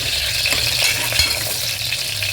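Onions sauté in a pan during the making of a mutton gravy, giving a dense, steady sizzle up close with faint stirring scrapes throughout.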